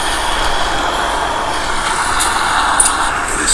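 Video game audio, an action scene with mechanical rumble and noise, plays at maximum volume through the earpiece speaker of a Xiaomi Mi 11X phone, a steady, dense wash with a small transient near the end.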